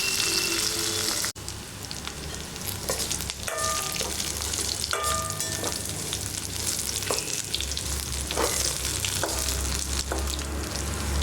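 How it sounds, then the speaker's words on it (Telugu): Coconut pieces and curry leaves fry in a pan for coconut chutney, making a dense, crackling sizzle throughout, with a sharp knock early on and intermittent clinks and scrapes of stirring. "ఇప్పుడు ఈ కొబ్బరికాయ ముక్కలను వేసుకోవాలి మరియు కరివేపాకు వేసుకొని వీటిని కూడా దొరగా వేయించుకోవాలి"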